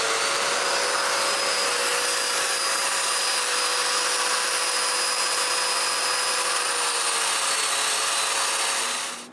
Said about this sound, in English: I make a small mark over each joint and drill the mortises.